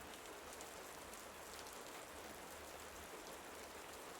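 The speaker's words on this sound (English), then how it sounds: "I remind myself of this very wonderful phenomenon of rain." Steady rain falls in a dense, even hiss, close and constant throughout with no other sounds or voices.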